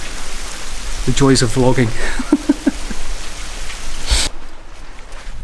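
Steady, loud rain falling outside a tunnel, with a close voice talking briefly over the hiss before a sharp bump and a sudden drop in the noise.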